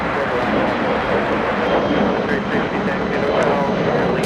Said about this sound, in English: Let's go over to Aeromexico pushing back.